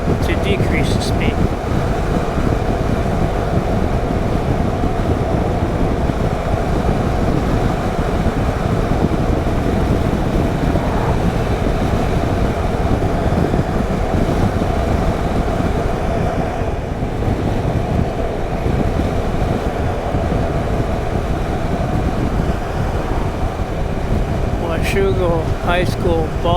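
A boat motor runs steadily on a river, a constant loud drone mixed with wind buffeting the microphone throughout, and a voice occasionally speaks over it.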